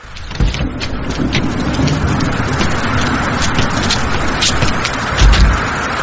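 A steady, heavy wash of rain noise fills the whole stretch, loud and close, with a low thump near the end.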